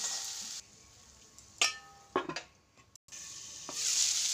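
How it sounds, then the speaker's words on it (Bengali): Red chili fries on low heat with salt in a pan, giving a steady hiss that drops away, returns with a few sharp stirring clicks, and swells again louder at the end. "এখন ভাজা ভাজা করবো, ছোটো করে আঁচ ভাজা ভাজা করে ঢেকে রাখবো"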